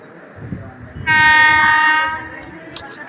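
A passenger train's horn blares loud and close for about a second as the train arrives, over a low rumble of the approaching rail cars.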